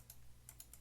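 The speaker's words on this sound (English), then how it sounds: "I'm clicking like crazy." Rapid mouse clicking on a computer during a transport management game, a few quick faint clicks spaced through under a steady low hum, with no talking.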